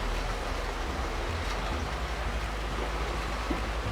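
Model train cars uncouple and run along the track, giving a steady, dense rumbling rattle at moderate level with a faint click near the end, no voices.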